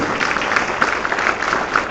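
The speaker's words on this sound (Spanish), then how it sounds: "Dale un aplauso a Él, amén." A church congregation claps during a Sunday service, a dense wash of many hands applauding steadily for two seconds with scattered louder claps, no voices standing out.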